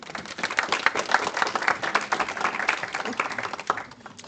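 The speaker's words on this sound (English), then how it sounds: "Let's give her a round of applause." Audience at a press conference clapping, a fairly soft burst of applause that swells and then fades out over a few seconds.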